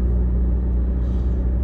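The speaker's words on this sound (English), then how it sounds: "I'll just do a little wide open throttle, just to show you guys how it is." A 2016 Jeep Renegade with an aftermarket exhaust at wide open throttle gives a steady, loud, low rumbling drone, heard close with no speech.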